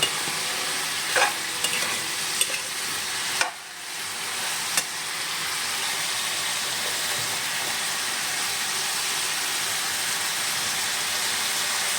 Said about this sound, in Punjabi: ਹੁਣ ਇਹਨੂੰ ਅੱਛੀ ਤਰ੍ਹਾਂ ਅਸੀਂ ਮਿਕਸ ਕਰ ਲਵਾਂਗੇ